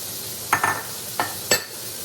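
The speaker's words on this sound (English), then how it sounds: "I'm going to put my onion, garlic, and celery in here." Onion, garlic and celery in a beef stew pot, stirred in a few quick scraping strokes with soft sizzling underneath and quiet gaps between.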